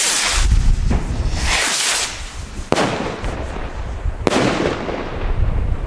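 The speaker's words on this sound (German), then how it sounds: "das sind so Art Pioni-Raketen, also einzelne Sterne halt" Weco Bright Colour Rockets launch with whooshing hisses and burst into sharp, loud cracks, two distinct bangs standing out over a windy outdoor background.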